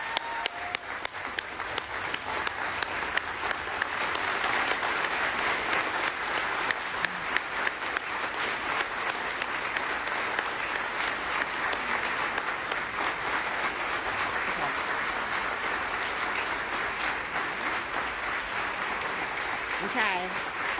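Audience applause for a group of awardees at a formal awards ceremony, a broad, sustained wash of many hands clapping steadily for about twenty seconds, with a few faint voices mixed in.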